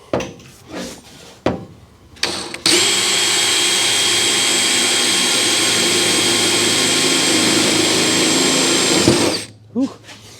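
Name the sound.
drill drilling in car engine bay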